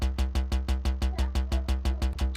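Dry synth bass with no disperser, distortion, detune or low cut, playing about a dozen even, rapid plucked notes in a steady driving rhythm, close and clear on its own.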